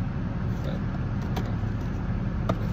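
A car engine idling while the car defrosts in freezing rain, a steady low rumble throughout with a couple of faint clicks and no talking.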